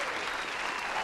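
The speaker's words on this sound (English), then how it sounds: "I'm going to give you a second round of applause for that." Steady applause from a small group fills the moment, a dense even patter of clapping with no pauses.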